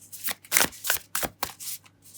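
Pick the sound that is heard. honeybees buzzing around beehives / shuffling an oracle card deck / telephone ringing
shuffling an oracle card deck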